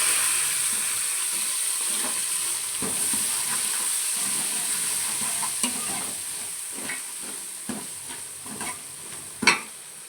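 Chopped onion sizzles steadily in a pan with cashews for bisi bele bath. A spatula scrapes and stirs through it in irregular strokes, ending with a louder clack near the end.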